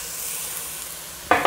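Zucchini sizzling as it is seasoned and sautéed in a hot pan, a steady soft frying hiss, then a brief louder scrape or stir near the end, close up and with no talking.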